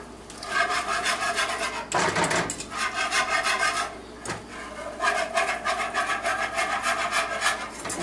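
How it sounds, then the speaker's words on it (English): A whisk scrapes steadily around a pan of gravy, making a continuous rhythmic rasping and rubbing sound. Two brief clanks break the sound, which stays close and alone with no talk. "You just want to whisk that up."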